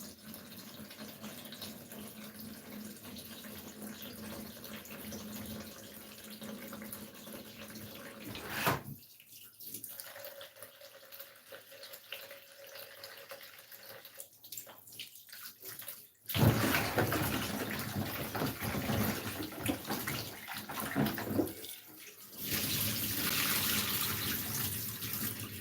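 Tap water runs steadily into a sink to rinse vinegar-washed food for fufu, with pauses where the flow stops and restarts, close and fairly loud.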